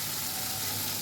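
Water poured into frying masala sets off a loud, close, steady sizzle that fills the whole brief moment without pause.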